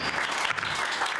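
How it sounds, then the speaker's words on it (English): Brief burst of dense applause from an audience at an Albuquerque city council meeting, many hands clapping steadily and fairly loud throughout, with no speech over it. "Again, we'll ask to refrain from applause or we could be here all night."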